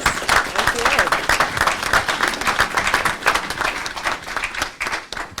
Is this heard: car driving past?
no